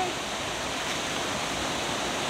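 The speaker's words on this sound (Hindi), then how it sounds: "Let's consider it as a small river." A small mountain stream on a Sikkim trek rushes steadily, a dense, even roar of flowing water filling the whole short stretch, close and loud.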